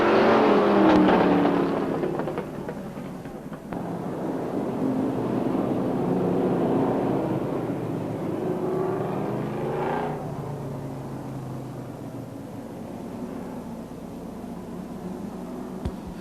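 Race cars, likely street stocks, circle a speedway oval at Star Speedway, their engines a broad, steady roar that swells loud early, eases, then holds at a sustained middle distance with no talk over it.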